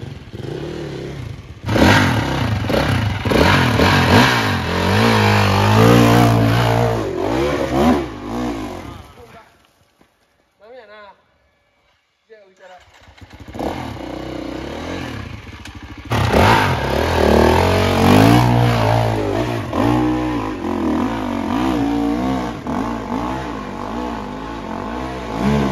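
An off-road enduro motorcycle revs hard on a slippery hill climb at an off-road course, its tire spinning, with loud fluctuating engine roar that drops away briefly midway before surging again, and a voice talking over it.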